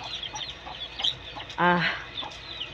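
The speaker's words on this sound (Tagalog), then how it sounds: "Yan, ang aking mga alagang manok." Chickens cluck softly nearby, with one louder, sharper cluck rising above the others midway.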